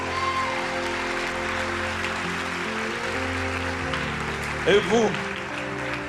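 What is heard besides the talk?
applause from a church congregation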